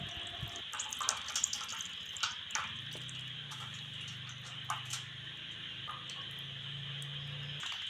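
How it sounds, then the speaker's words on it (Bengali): Tap water runs steadily while raw chicken is rinsed for a chicken curry, a quiet, continuous flow with scattered light drips and splashes and a low hum underneath. "ভালো করে মাংস ধুয়ে নিচ্ছি।"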